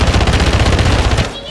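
A burst of rapid automatic gunfire in the video game Warzone 2 DMZ, very loud and dense, then cutting off abruptly near the end.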